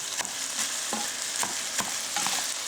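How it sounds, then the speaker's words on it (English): Butter sizzles in a hot pan while pasta sauce is being made, a constant close crackling hiss with a few sharper pops and spatters and no voices over it. "I'm gonna put this butter in here."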